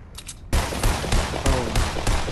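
In a Floor is Lava video game match, rapid bursts of gunfire crack out loud and close in a quick volley, with short pauses between shots.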